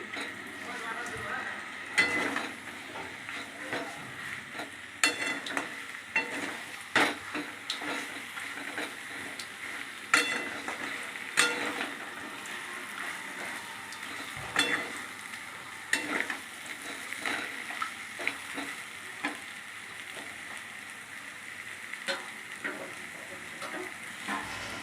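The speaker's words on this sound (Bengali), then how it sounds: "ভালো করে কষতে থাকলাম।" Chicken coated in spice paste sizzles and fries in a pan while being stir-fried, a steady close crackle punctuated by repeated scraping and clinking of a spoon against the pan, with no talking.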